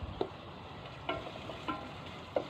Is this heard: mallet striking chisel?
no